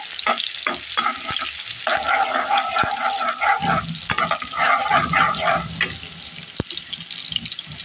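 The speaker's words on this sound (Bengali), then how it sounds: "এখন আমি এই চিংড়ি মাছটা দিয়ে দিলাম। চিংড়ি মাছটাকে ভেজে নেব।" Shrimp frying in hot oil with spices, a loud, bubbling sizzle close by, broken by stirring clinks and scrapes and the sharp knock of a utensil against the pan.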